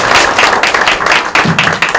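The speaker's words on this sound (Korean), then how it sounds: "다시 한번 큰 박수를 부탁드립니다" Loud, dense applause from a seated audience at a 2019 Korean Peninsula unification talk concert. The clapping is close and continuous with a couple of brief dips, and no talk is heard over it.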